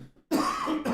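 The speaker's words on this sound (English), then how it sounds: "I got these coughs." A single harsh cough, loud and close, bursts out after a brief quiet moment and is followed by a short second rasp.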